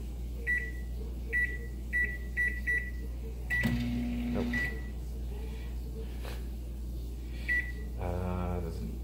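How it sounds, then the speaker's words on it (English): A kitchen microwave oven hums steadily while a string of short electronic beeps repeats at intervals, with a few clunks and a brief rattling sound near the end. "It's their microwave."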